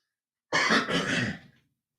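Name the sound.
blowing nose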